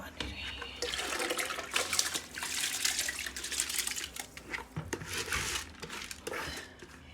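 A pot of water for chicken biryani, with mint added, comes to a boil on the stove. A steady rushing, bubbling hiss runs throughout, moderately loud and close.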